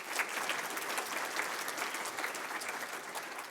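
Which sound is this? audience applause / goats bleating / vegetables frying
audience applause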